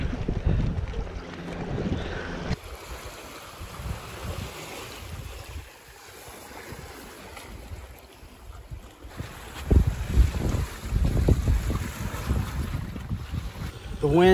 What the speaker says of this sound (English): The wind that I'm getting coming in through this vent, which is the boom tent, is unbelievable.